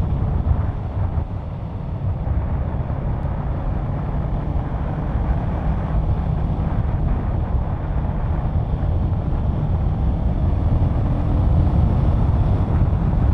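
A 2020 Kawasaki Ninja 650 motorcycle engine while riding on smooth tarmac in a higher gear: a steady, loud low drone under constant wind rush, with no voices.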